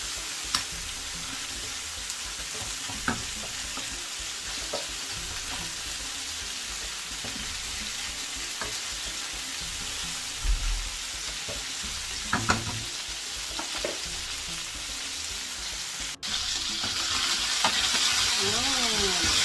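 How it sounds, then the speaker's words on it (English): Continuous close-up sizzle of food frying in a hot pan, with occasional soft knocks of a utensil, the hiss swelling louder near the end. "Can you hear that sizzle?"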